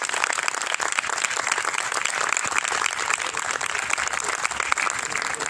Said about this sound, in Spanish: Lo lograron, así que un fuerte aplauso.